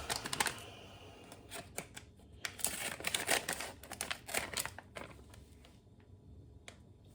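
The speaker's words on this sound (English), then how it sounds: "I'll get this marinade open." Crinkly plastic rustling and a series of sharp snipping clicks from scissors, close by, as a Jamaican jerk marinade packet is handled and cut open, with no talking.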